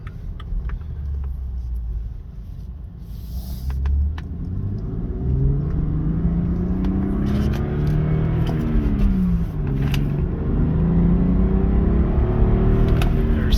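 A 2015 BMW 335 engine accelerating on a back road, steady loud rumbling drone whose pitch climbs and drops as it shifts through the gears, heard from inside the car.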